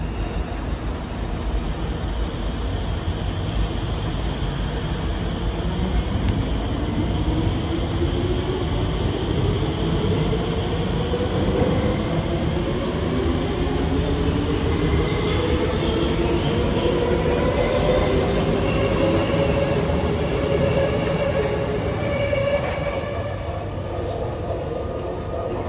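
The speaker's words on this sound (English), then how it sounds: "you can get a really good shot of the trains leaving, such as this one" MRT train leaving an outdoor station at Kallang, Singapore, a long, loud rumble of wheels on track with a motor whine rising in pitch as it accelerates away, plus occasional faint high squeals, no talking.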